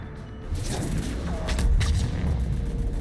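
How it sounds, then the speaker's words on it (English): A Mass Effect 3 video game explosion, a heavy low rumbling boom that swells and lingers for a few seconds amid battle noise, loud and close with no talking. "Yes, explosion."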